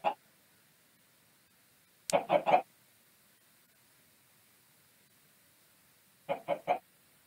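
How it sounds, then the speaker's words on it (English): Chickens clucking in Minecraft Skyblock: short clucks separated by silence, a lone cluck at the start, then a quick cluster of three and another cluster of three later, clear and close. "Did the chicken just slide down?"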